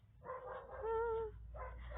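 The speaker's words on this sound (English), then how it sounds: "Why there's a dog there?" A dog in a Roblox obby game lets out a short burst of barks and whimpering yips, moderately loud and alone without talk.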